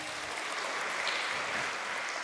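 A church congregation claps in a steady, dense wash of applause during a worship service, fairly even in loudness from start to finish with no voices standing out.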